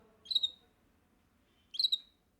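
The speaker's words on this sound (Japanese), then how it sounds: "なんだ、普通の鳥か。" Two short, bright bird chirps sound about a second and a half apart, near and clear over a quiet background.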